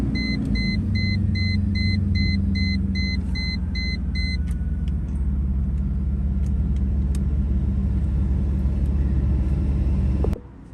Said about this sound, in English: Now the car is running the way that it should